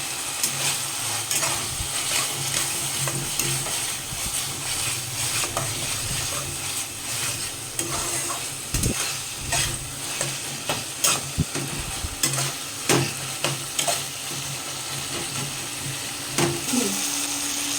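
Ginger and garlic paste with green chilies frying in a pan for a thin chicken curry, a dense continuous sizzle with repeated spatula scrapes and clicks, close and steady without speech.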